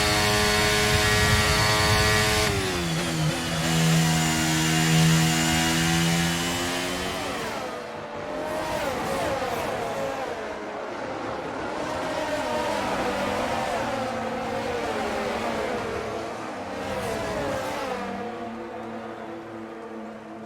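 Formula 1 car engine in the F1 23 video game revving and accelerating back to racing speed, a loud high-pitched whine rising through the gears with repeated upshifts, close and sustained throughout.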